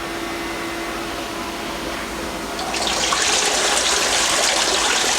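A bait tank aerator is switched back on partway through, and a dense, hissing rush of air bubbling into the water swells up over the steady background hum and continues to the end.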